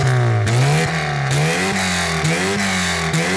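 A Mk I VW Rabbit engine with an aggressive cam profile, idling lumpy and blipping up in repeated short revs, loud and close with no talk.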